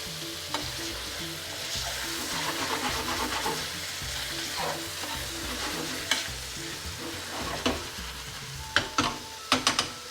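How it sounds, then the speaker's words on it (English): Tofu tikka rezala curry bubbles and sizzles in a pan as a utensil stirs it, giving a continuous frying hiss broken by scraping strokes and several sharp knocks against the pan toward the end. "I'll give that a little stir."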